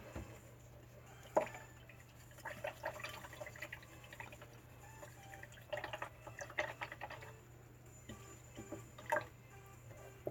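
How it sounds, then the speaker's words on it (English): A paint brush being rinsed in water: faint, quiet swishing and dripping splashes that come in irregular bursts over a low steady hum, with no talking. "I'm going to wash this brush real quick."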